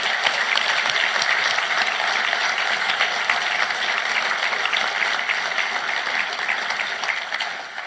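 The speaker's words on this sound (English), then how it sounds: "Let's give them a big round of applause." Sustained applause from a conference audience honoring frontline health workers, a dense, steady wash of clapping that holds for several seconds before easing slightly at the end.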